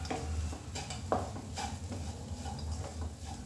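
Leftover roti chaat being stirred in a pan with a little heated oil, giving repeated soft scrapes and clinks of a utensil against the pan at a steady pace, close by, with no talking.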